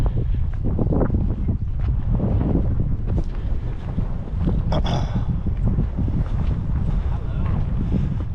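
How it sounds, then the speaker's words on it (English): Strong wind blows across the Giza plateau, buffeting the microphone with continuous loud rumbling gusts; a voice speaks faintly beneath it. "But if you were here on site, you'd be very grateful for that wind."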